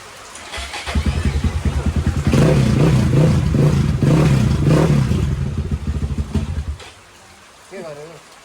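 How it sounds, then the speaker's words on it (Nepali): Two motorbikes start up and rev hard together, a loud, close engine roar rising and falling for several seconds before cutting back, followed by a brief faint voice near the end. "दुइटै बाइक स्टार्ट हुने भइसकेको छ"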